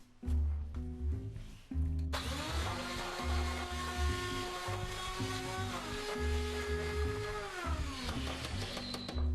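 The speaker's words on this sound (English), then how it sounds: "First, blend the onions, ginger and garlic." A blender whirs steadily for several seconds blending onions, ginger and garlic, its motor pitch sliding as the blades chop, with music playing underneath.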